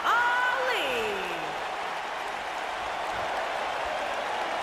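Wrestling-arena crowd cheering in the WWE 2K19 video game during Mustafa Ali's entrance, a steady wash of applause and crowd roar that opens with a falling, sliding tone and then holds a constant level.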